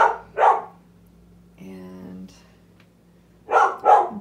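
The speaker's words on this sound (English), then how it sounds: "That's my dog barking." A dog barks indoors in two short bursts of two barks each, at the start and end, with a brief whine or murmur in between; the barks are fairly loud and nearby.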